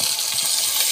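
Ground ginger, black mustard and green chili paste hitting a hot pan as fish cooks, a brief loud close sizzle and splatter.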